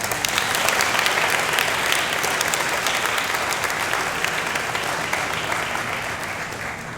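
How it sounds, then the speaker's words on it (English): An audience applauds at the final of a physics tournament for young people: a thick, continuous wash of many hands clapping, loud and even, easing gradually toward the end. "So if you could give him a round of applause"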